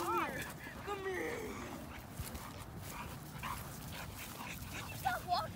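An American Bully dog barks and whimpers nearby, with yips and high whines breaking out at the start and again near the end while a person talks over it.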